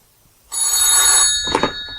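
A telephone bell rings in a radio drama, one sustained bright electric ring starting after a short silence, loud and close, with a small clatter near the end.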